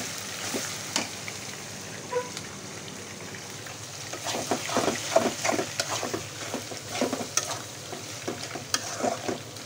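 Shrimp frying with onion and garlic in a pan for dried-fish bhaji, a steady soft sizzle with scattered stirring scrapes and clicks, busier in the second half, no talking.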